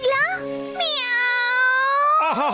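A cartoon cat from the Motu Patlu animated series gives a drawn-out, wavering meow that bends up and down in pitch, loud and close, with a brief voiced cry at the very end.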